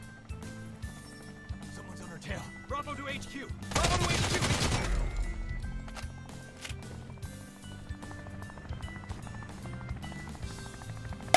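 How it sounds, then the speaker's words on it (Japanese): Video game gunfire crackles in a dense burst midway, over a busy mix of game sounds and music. "銃声鳴ってるな。"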